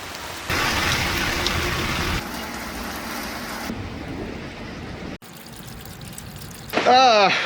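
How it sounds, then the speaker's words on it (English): Steady heavy rain from a storm hisses throughout, changing texture as it falls on different surfaces, with a brief gap and a high whining sound near the end. "it's still raining a lot"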